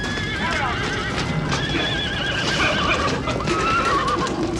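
Horses whinny and neigh repeatedly, close and loud, over a busy clatter of hooves and a mix of voices.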